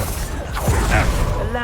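A Confringo fire-blast spell cast in Hogwarts Legacy, a loud whooshing burst with creaking, mechanical crackle over the game's combat din, lasting barely a second or two.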